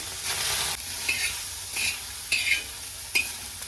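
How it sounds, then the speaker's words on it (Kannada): Tomatoes frying in a pan while being stirred, a loud hiss of sizzling broken by several scraping strokes of a spoon against the pan, close and with no talking. "ಇವಾಗ ಟೊಮೆಟೊನ ಕೂಡ ನಾನು ಚೆನ್ನಾಗಿ ಫ್ರೈ ಮಾಡ್ಕೊಳ್ತೀನಿ"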